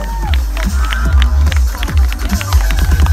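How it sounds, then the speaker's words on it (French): Spectators cheer and clap for riders at the French mountain bike championship at Alpe d'Huez; loud, close crowd noise with whoops and clapping, mixed with a public-address voice and sharp passing sounds. "applaudissements"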